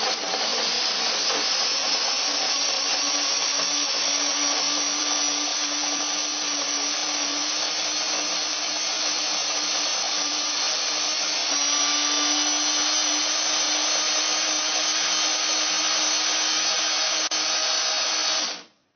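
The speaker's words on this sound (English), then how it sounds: "That's probably long enough in the blender there." An electric whisk or blender runs continuously in a home kitchen, churning a homemade DNA extraction mixture with a steady, loud motor whine that holds for about eighteen seconds before cutting off abruptly.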